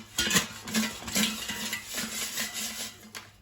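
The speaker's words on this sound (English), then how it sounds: "let's take out the air fryer basket and shake the pizza rolls so they cook evenly" Frozen Totino's pizza rolls are shaken in a metal air fryer basket, giving close, rhythmic rattling and clattering as the little snacks tumble against the basket for a few seconds.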